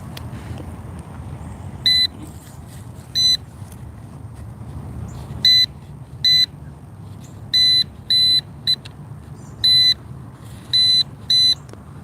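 A Bounty Hunter Tracker metal detector sweeps over a buried target during coin hunting, sounding short repeated high-pitched buzzy tones in irregular bursts over a faint low background rumble.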